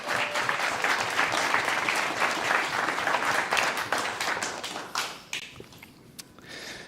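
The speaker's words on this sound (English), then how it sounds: "Give yourselves a round of applause." Audience applause at a guide dog graduation, dense clapping from a crowd that stays full for several seconds and then thins out to a few scattered claps.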